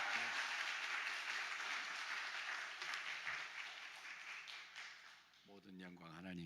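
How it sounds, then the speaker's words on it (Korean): A congregation applauds continuously in a large, reverberant church during a Sunday service, the clapping fading slightly before a voice begins speaking near the end. "우리 환영의 박수와 함께 할렐루야로 함께 환영하도록 하겠습니다"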